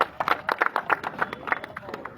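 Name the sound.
applause for a speaker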